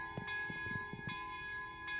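Church bells in the video game Shadows Over Loathing chime Mary Had a Little Lamb, a string of quick, faint tolls picking out the tune over a steady background tone.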